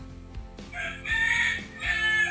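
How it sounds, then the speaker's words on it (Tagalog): A rooster crows loudly nearby, a drawn-out cock-a-doodle-doo in two rising phrases, with no talking. "Ayun, manok!"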